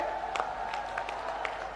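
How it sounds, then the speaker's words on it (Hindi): Crowd clapping at a BJP rally in Sirsa, Haryana, welcoming Chief Minister Manohar Lal Khattar, a steady wash of applause held at a moderate distance with scattered sharper claps. "एक बार तालियां बजा के स्वागत करें।"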